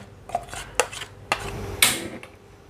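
Ground Indonesian curry spice paste is shifted between dishes, producing a few sharp clinks and scrapes of metal utensils against pots and bowls, close by and spaced out, with no voices.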